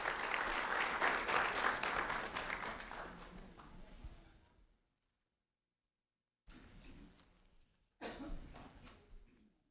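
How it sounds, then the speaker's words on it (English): Audience applause at an award ceremony honoring a 5th-grade student, with a burst of steady clapping that fades out, then a gap of silence, then two shorter spells of scattered clapping and coughs. "a round of applause for Deondray Cariola"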